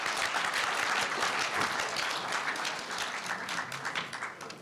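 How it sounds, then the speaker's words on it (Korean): Applause from the audience at Korea University's 70th-anniversary ceremony for the Korea University newspaper, as honorees come forward to receive a commemorative anthology. Dense, steady clapping holds for the whole span without speech. "박수로 모시겠습니다."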